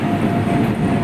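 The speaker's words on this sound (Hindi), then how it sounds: "शाम का समय हो रहा है और मालगाड़ी निकलती हुई दिखाई दे रही है नए ट्रैक पर" A freight train rolls past on a newly built track near Darbhanga at dusk, a loud, steady, close rumble of wagons sustained throughout with no talk.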